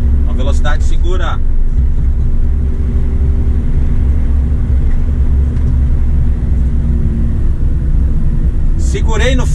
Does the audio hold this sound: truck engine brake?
yes